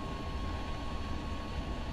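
Steady, droning jet engine roar from a Grumman A-6E TRAM attack aircraft in War Thunder, a constant broadband whine with a faint tonal hum and no breaks.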